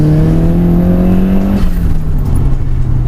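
A turbocharged Nissan Silvia 180SX S13 accelerates from inside the car, its engine note loud and close, rising steadily in pitch before a brief shift dip and a continued droning pull.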